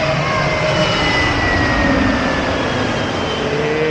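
An IndiGo airliner passing low overhead on its landing approach, a loud, steady jet engine roar that fills the whole stretch with no pause.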